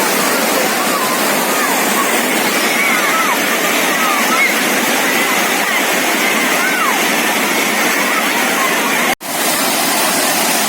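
The Rayap waterfall at Blang Kulam, North Aceh, roars as a loud, constant rushing wash, with a brief sharp dropout near the end.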